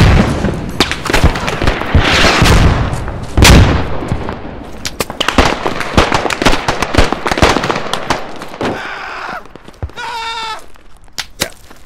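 Heavy mortar and gun fire in the tactical shooter game Squad, with a dense run of loud booming blasts and cracks close by, followed by quieter scattered shots and a few tonal game sounds.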